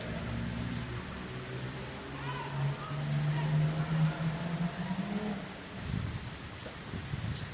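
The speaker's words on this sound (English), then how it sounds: "Well, look at this rain," Rain pours down at night, a dense hiss that stays steady throughout, with a low rumble passing underneath.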